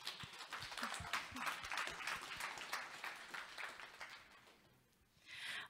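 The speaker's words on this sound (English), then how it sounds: "that's why we also, I think, can have a round of applause to ourselves" Audience applause at the close of a final conference for a teaming-up project: a dense, fairly soft patter of many hands that holds steady, thins out near the end, then briefly swells again.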